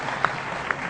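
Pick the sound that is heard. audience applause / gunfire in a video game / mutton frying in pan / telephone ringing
audience applause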